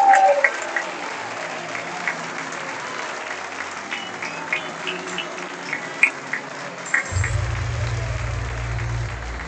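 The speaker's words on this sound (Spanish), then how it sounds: "Fuerte el aplauso para Leo." An audience at a kayak surf world championship closing ceremony in Argentina applauds steadily throughout, heard under an announcer's voice, with a low electronic hum coming in near the end.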